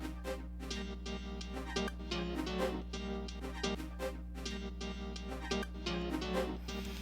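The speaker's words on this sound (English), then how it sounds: "some weird synth loop is what I found" A looping, odd-sounding synth riff in a soulful modern house track trades phrases with another element over a heavy, steady low bass, rhythmic and continuous without any talking.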